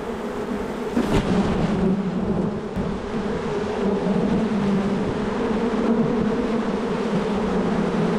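A dense, steady buzz of many bees swarming close by at an open hive as they ball their queen, continuous and loud throughout with no voices.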